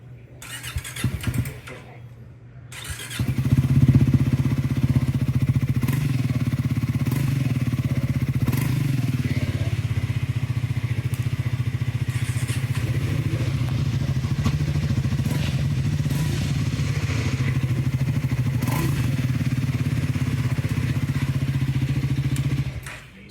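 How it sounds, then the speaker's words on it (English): A Triumph Scrambler 400X motorcycle with twin exhaust cranks and fires up, then settles into a loud, steady exhaust rumble with brief revs, running close by until it cuts off. "Versus on the Scrambler with the twin exhaust setup."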